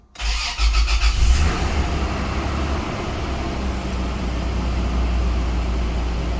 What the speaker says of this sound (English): Cold start. So everything is cold.